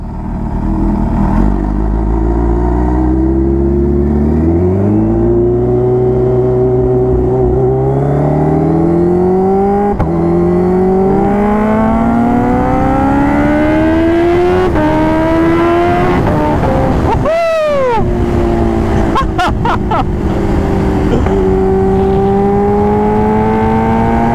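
Kawasaki H2R supercharged motorcycle revving hard while riding, loud and close, pitch climbing through repeated gear changes with a sharp high rev spike midway and a steady roar throughout.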